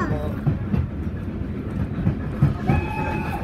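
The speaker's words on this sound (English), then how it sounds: "I'm on the train now" A steam train on the Keighley steam railway rumbles along with rhythmic clacking of wheels over rail joints, a sustained whistle tone entering near the end, loud and close.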